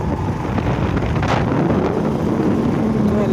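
Strong wind blows outdoors on a cold day in open farmland, roaring steadily into the microphone with a dense low rumble and gusty buffeting throughout.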